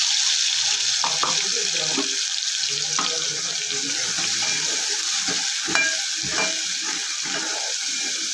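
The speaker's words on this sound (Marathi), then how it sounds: "चांगल्या चांगलं तेलात भाजून परतून घेऊ आपण" Garlic, coconut, coriander and cumin paste fries in hot oil with steady sizzling, scraped and stirred in the pan at intervals, close and loud, with no talking.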